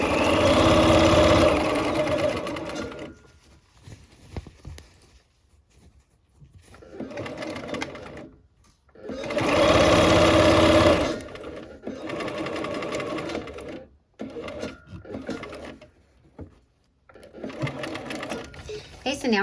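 A sewing machine runs in bursts while stitching a seam and reversing for a back stitch, loud whirring runs broken by short pauses, with talk in between.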